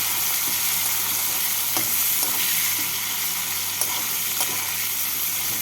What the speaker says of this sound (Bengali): পেঁয়াজটাকে হালকা লাল করে ভেজে নিচ্ছি